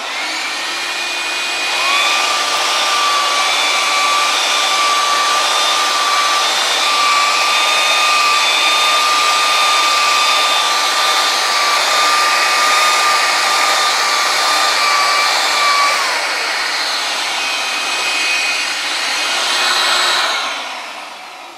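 Workshop dust collection system starting up and running, a loud steady rushing roar with a whining motor tone that holds for about fifteen seconds and then winds down.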